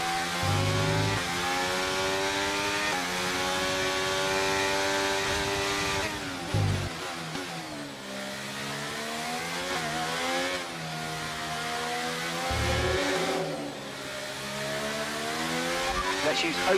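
F1 race cars in the F1 23 racing game on PC scream past with rising and falling high-revving engine whines, gear shifts and brief tire scrubs, loud and continuous, with a voice talking over the engines.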